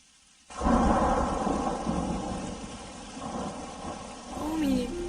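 A thunder and rain sound effect plays over stage speakers at an Onam celebration rain dance, opening with a sudden loud rumbling crash that rolls on into a steady wash of rain, with a voice speaking faintly near the end.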